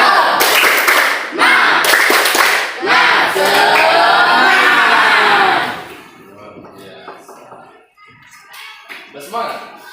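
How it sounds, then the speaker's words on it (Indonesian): A classroom of students does a rhythmic spirit clap, loud bursts of patterned clapping mixed with children's shouted chanting for about six seconds, followed by quieter talk and scattered voices. "Tepuk semangat."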